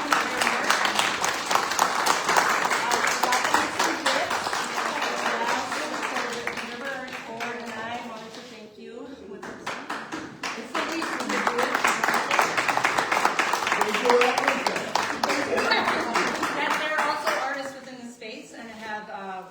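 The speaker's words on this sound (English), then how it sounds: "So Mary Dickey and Rhonda Nass, if you all would mind helping me clap for them for their work." An audience claps steadily for a long stretch at an art reception, a broad wash of applause that dips briefly before swelling again, with voices talking over it.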